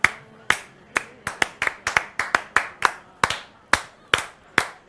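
A few people clapping in a slow, uneven rhythm at a Ramadan quiz show, about twenty crisp separate claps close by, with no talk.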